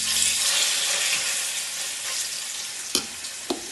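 Pork chops fry in olive oil in a pan over medium heat, giving a close, steady sizzle and crackle, with two sharp clacks near the end as pieces are set into the pan.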